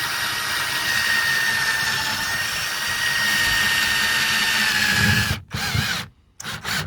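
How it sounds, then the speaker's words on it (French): A cordless drill bores out the rivets holding a car door speaker in a Seat Ibiza 6L. It gives a loud, continuous whine close by that breaks off in short stops and restarts toward the end. "Solution, il va falloir percer. Donc on va percer, tranquille."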